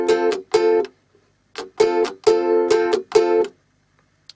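A ukulele strummed fast in a pop-song strumming pattern, with bright chord strokes in short bursts separated by brief gaps, close and clear with no talk.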